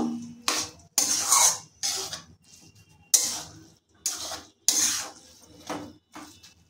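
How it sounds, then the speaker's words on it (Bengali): Plate-rinsing water is poured into a banana flower curry in a pan and stirred in, making a series of short, fairly loud splashing and scraping bursts separated by brief pauses. "দিয়ে দিচ্ছি প্লেট ধোয়া জল। ভালো করে মিশিয়ে নেব।"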